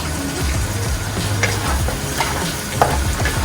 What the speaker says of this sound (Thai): ผัดพอกระเทียมกับพริกสุก